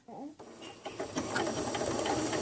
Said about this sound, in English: We're going to sew a little bit to how long we want the stitch to be